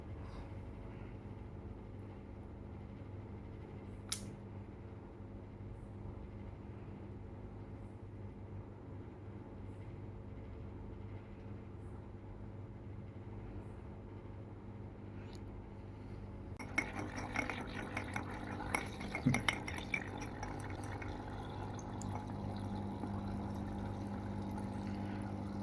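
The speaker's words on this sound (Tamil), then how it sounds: "இதில் நான் இப்போ ஏர்ஸ்டோன் யூஸ் பண்ணியிருக்கேன்" An aquarium air pump pushing air through an airstone to hatch brine shrimp makes a low, steady hum. About two-thirds of the way through, a brighter buzzing, bubbling layer joins in.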